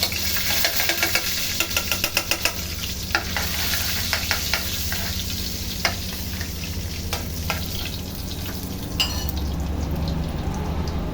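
Butter sizzles steadily in a hot pan while chicken cauliflower cooks alongside crunchy chicken skin, with light clicks and scrapes of stirring running through the constant crackling hiss.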